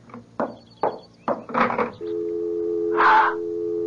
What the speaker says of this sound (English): It's the dial tone.